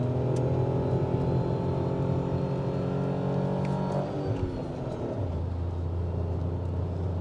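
A Tata Altroz CNG hatchback accelerating hard uphill in a hill area, engine note climbing steadily through revs, then dropping as a gear change settles into a lower, steady drone.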